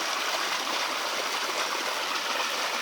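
Water spills over the end of a trough into a pond, a constant close, loud rushing trickle with no pauses.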